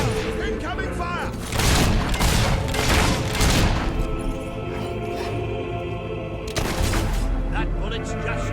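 Gunfire in the Fable 3 video game, with rapid bursts and booming shots in dense volleys, then a lull and another burst, loud and close, with a voice talking over parts of the action.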